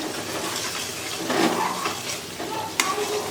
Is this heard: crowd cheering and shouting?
no